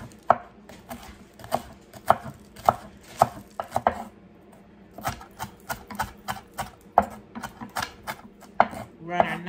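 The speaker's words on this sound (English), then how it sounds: "Run our knife across them a little bit." A knife chops the green tops of green onions on a board in a steady run of sharp, evenly spaced taps, close and clear with short pauses between bursts.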